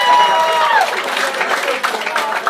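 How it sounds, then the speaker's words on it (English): A comedy club audience breaking into applause, a brief dense burst of clapping with a voice talking over it at first. "Give him a round of applause for coming out"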